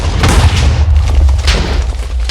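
A deep, rumbling boom with sustained low-end roar, loud and close, like a Minecraft-style modded game explosion continuing for a couple of seconds.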